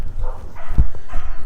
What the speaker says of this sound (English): Oh my god, these fucking dogs.